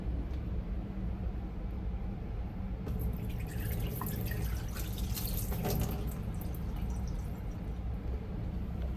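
Dirty water pours and splashes into a basin from the tank of a Tineco Floor ONE S7 Pro wet-dry vacuum, starting a few seconds in over a steady background hum, with scattered dripping and sloshing.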